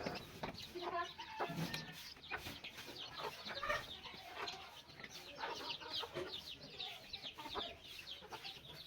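Chickens cluck repeatedly inside a small village henhouse where a hen's eggs have just hatched, the calls fairly quiet and overlapping in an irregular stream with no talking.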